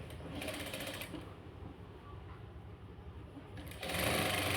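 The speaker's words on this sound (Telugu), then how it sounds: "ఇప్పుడు మనం వేయాల్సిన కుట్టు ఇక్కడికి ఎడ్జ్కి వేసేసుకోవాలి చూడండి" Sewing machine running steadily while stitching along the edge of an old blouse being repaired, a continuous close mechanical whir that speeds up loudly near the end.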